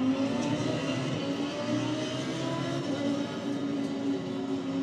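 A race car in a sim racing game plays through a 5.1 surround sound system, its engine a steady, fairly loud drone with a whirring tone that continues without pause.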